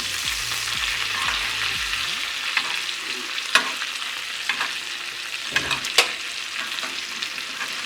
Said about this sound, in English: Let that melt. Move the steaks up here. Then we baste our steaks.